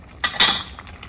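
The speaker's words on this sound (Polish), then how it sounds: "dodam tej gorącej wody troszkę do śmietanki, żeby nam się nie porobiły kluchy i nie zważyła" A spoon clinks twice, quick and bright, against a bowl while hot beet soup water is stirred into sour cream in a kitchen. The sharp taps fade into quiet.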